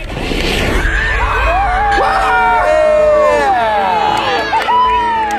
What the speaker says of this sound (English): you hear all of the kids in the background screaming and squealing